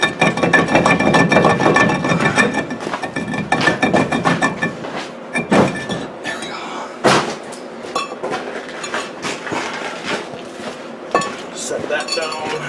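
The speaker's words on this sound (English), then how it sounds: "now with the caliper removed, we should be able to just pull this rotor off" A brake rotor is worked loose and pulled off the wheel hub of a 1992 Chevrolet K1500 pickup, with loud metallic clanks, scrapes and rattles, close and irregular.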